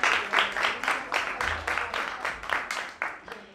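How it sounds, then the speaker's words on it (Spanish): An audience at a science-careers event claps in a regular rhythm, with about a dozen evenly spaced bursts that sound close and fairly loud. "Así que un aplauso para todos"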